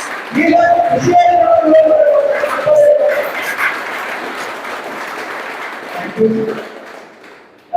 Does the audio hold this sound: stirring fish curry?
no